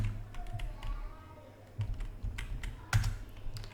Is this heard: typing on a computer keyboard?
yes